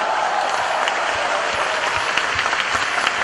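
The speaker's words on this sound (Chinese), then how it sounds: "给我鼓掌的同时呢，也给他鼓掌" Warm, steady applause from a theatre audience greeting a Chinese crosstalk duo, dense and continuous throughout with individual claps faintly standing out near the end.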